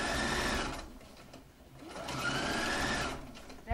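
A sewing machine runs an edge stitch along fabric, its needle chattering in two quick sustained bursts with a brief slowdown between them, close and clear.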